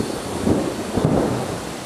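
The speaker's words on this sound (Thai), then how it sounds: "ตอนนี้ฝนก็กำลังสิตกทุกคนฟ้าห้อง" Low, rolling thunder rumbles steadily through the short stretch in rural Laos, swelling twice, with a faint hiss of rain behind it and no voices.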